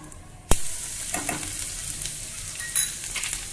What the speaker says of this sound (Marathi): आता आपण त्याच्यामध्ये लसूण ठेचलेला घालूया